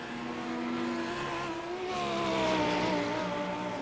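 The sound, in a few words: race cars overtaking in iRacing replay, from a video game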